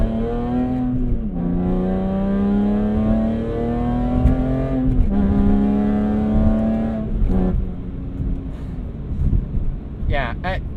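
A BMW E46 M3 ZCP engine revs hard on track, its pitch climbing through gears and blipping sharply on downshifts, loud and close inside the cabin with wind noise and a voice talking over it.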